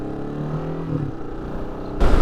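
Yamaha R15 V2 motorcycle pulling away, engine tone rising and falling briefly, then a sudden louder burst of engine and wind noise near the end.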